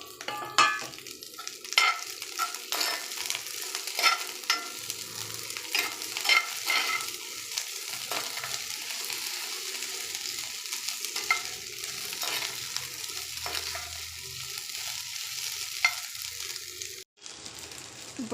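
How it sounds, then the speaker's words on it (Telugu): Potato and broad bean pieces fry in a pan with a steady close sizzle, broken by frequent scraping and stirring clatter, then a brief pause near the end. "ఇది కొంచెం ఫ్రై అయిన తర్వాత చిక్కుడుకాయ ముక్కలు వేసుకోవాలి."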